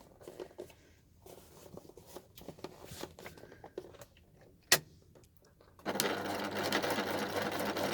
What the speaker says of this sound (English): to machine across the top here with a centimetre seam allowance